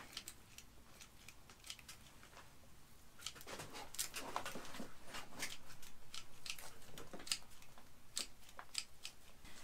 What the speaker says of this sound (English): I could maybe do to just trim all of these hairy roots off because they aren't really necessary